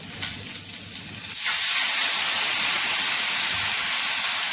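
Loud, steady sizzling hiss bursts up as water hits a hot pan of frying spices for a bitter gourd (karela) dish, continuing strongly without pause.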